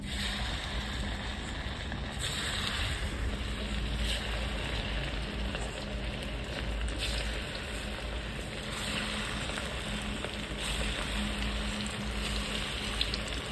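Chicken pakora frying in hot oil, cooked the village way, gives a continuous, fairly loud crackling sizzle with no talk over it.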